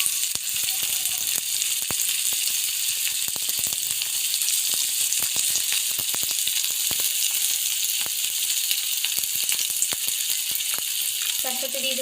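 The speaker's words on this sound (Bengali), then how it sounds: "তারপর পেঁয়াজ কুচনি দিয়ে দিচ্ছি এখানে ভেজে নেওয়ার জন্য।" Chopped onion frying in hot white oil, a dense steady sizzle with scattered crackles and pops running throughout, close and loud with no talk over it.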